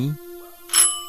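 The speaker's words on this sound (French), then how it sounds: "un violent coup de sonnette réveille la gardienne" A sharp doorbell ring jolts the night at an apartment building on avenue Hoche in Paris: a short, bright ringing burst following a low opening tone, heard alone and fairly close.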